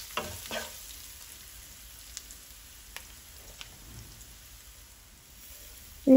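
Beetroot sautés with crushed chilli and turmeric in a pan, a quiet steady crackle with a few sharp utensil clicks and a louder knock at the end, no voices.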